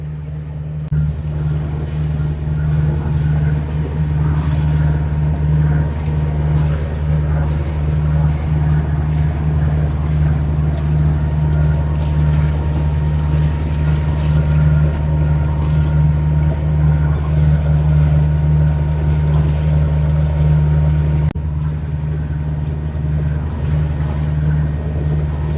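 A sailboat motoring under engine power along a narrow coastal creek, its steady low drone running continuously and loud for the whole stretch, with faint water wash and no talking.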